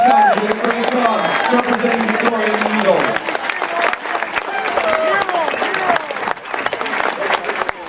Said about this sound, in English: How about a round of applause for these guys who did a great job representing Victoria and the Eagles.